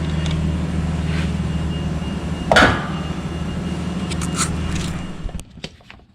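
A Makita cordless ratchet runs in a speed test, a steady motor whine with a sharp clunk partway through, then winds down and stops near the end.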